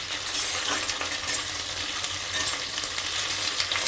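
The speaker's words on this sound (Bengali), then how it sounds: "এবার ভালো করে সিমগুলোকে ভেজে নিতে হবে" Flat beans (shim) fry in oil in a pan, producing a continuous close sizzle with light clinks and stirring scrapes of a utensil against the pan.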